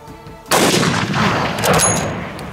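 .500 Jeffery big game rifle fired outdoors: a single loud, sharp blast followed by a long, rumbling reverberant decay.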